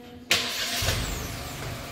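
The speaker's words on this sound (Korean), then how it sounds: "시동도 훨씬 더 부드럽게 걸릴 거예요." A Hyundai Casper 1.0 turbo gasoline engine cranks and catches with a sharp onset, then settles into a steady low idle rumble close by.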